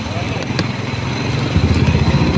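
A motorcycle engine runs steadily while the bike pushes through deep flood water, a loud, rough low rumble close by that swells slightly toward the end, mixed with splashing and voices.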